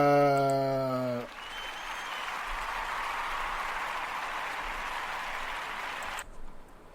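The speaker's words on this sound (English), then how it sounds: "Clap it up, clap it up, clap it" Crowd applause on a talk show, a dense steady wash of many hands clapping that follows a brief tone and holds for about five seconds before cutting off sharply.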